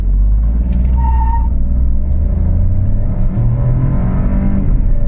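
A Peugeot 2008 accelerating hard from a standstill toward 100 km/h, heard from inside the cabin as a loud, steady engine drone and road rumble that builds without a break.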